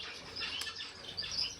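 Birds kept in holding cages chirp and tweet softly, a few faint, scattered calls over a quiet indoor background.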